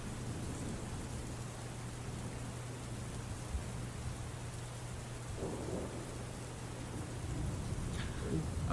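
Thunder and rain sound effect at a tabletop game session: steady rain hiss with low rumbling beneath and a faint hum, continuous and moderately quiet throughout.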